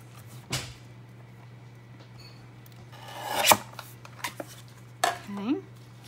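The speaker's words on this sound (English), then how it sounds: "so I'm just gonna trim that off" Paper being trimmed for a folio pocket during an accordion ephemera holder craft project, heard as a few short close rasping cuts and rubs, a longer scraping stroke near the middle, over a steady low hum.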